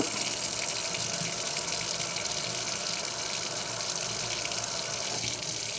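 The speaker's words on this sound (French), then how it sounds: "Là on peut même mettre de l'eau chaude, c'est pas un problème." Water from a faucet gushes steadily into a freshly unclogged sink, a continuous close splashing rush that never lets up.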